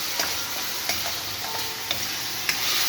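Pork and mushrooms frying in a pan, a steady dense sizzle with occasional soft stirring knocks throughout, close and continuous with no talking.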